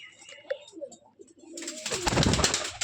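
Rajshahi Giribaj pigeons cooing softly in brief calls, then a sudden loud, rushing burst of noise takes over for the final second.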